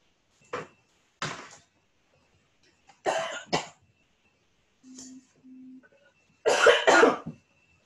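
A person coughs in several separate bursts, some single and some doubled, with short silent gaps between them. A brief low hum sits in the middle, and no talking is heard.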